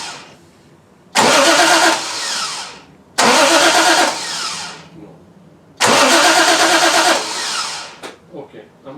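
A 1968 Triumph TR250 engine cranks in three loud, broadband bursts, each a few seconds long with short gaps, then catches briefly and sputters as it dies away at the end.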